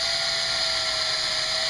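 A power drill runs at a steady, loud, high whine with no pause, boring a hole about an inch deep into a guitar body for a strap button. No one speaks over it.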